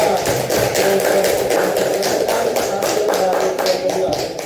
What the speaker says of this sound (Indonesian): Oke, aplaus dulu untuk kelompok 2.